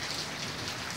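Heavy rain pours down steadily in a garden, a dense, loud hiss of drops striking surfaces without any pause or voice.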